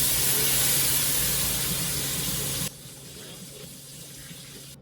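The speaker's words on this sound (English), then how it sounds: "I'm gonna add 4 cups of water." Four cups of water run steadily into a cooking pot for a gravy base as a close, broad rushing hiss that stops partway through, leaving a quiet kitchen afterward.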